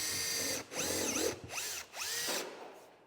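An iCARB countersink bit drills a shallow countersink in three short, whining bursts of the spinning drill, with brief pauses between them.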